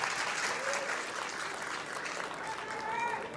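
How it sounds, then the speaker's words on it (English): A crowd applauds steadily throughout at a world team pool championship final between the Philippines and Poland, a sustained wash of clapping from a large audience. "You can hear the crowd getting behind them now."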